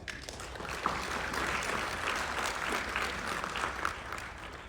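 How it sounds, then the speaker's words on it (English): A conference audience claps for event partners and co-organizers, a fairly soft, steady wash of applause with a few sharper individual claps standing out. "Please give them a big clap"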